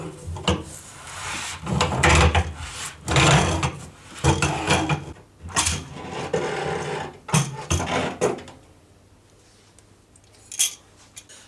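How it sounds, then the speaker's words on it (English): An old immersion heater being worked loose and pulled from a drained hot water tank, heard as close, irregular metallic clanks, scrapes and knocks in uneven bursts, trailing off into quieter gaps near the end. "So now we're going to fully remove the immersion heater and get on with the job."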